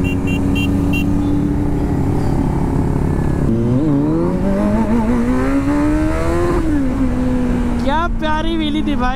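A Kawasaki Z900 motorcycle revs hard during a wheelie, its engine note climbing and falling loudly and up close, with voices talking over it throughout.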